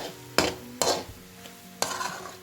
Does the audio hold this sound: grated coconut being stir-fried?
yes